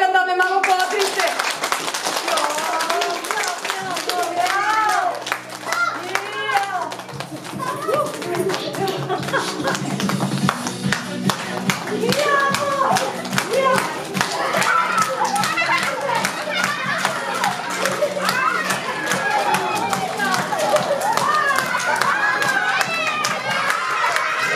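Children and adults at a kindergarten New Year masquerade clap and cheer in a noisy room, dense rhythmic clapping mixed with excited kids' voices and shouts that go on continuously throughout.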